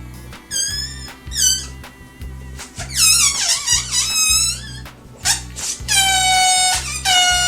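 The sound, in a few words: air let slowly out of a pinched balloon, squealing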